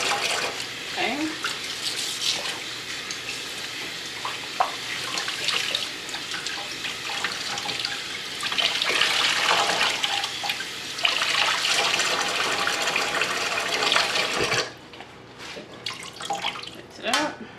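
Clothing, including a T-shirt, being rinsed by hand in water to clear out soap, with continuous splashing and sloshing that swells in the middle and drops off briefly near the end, close and fairly loud.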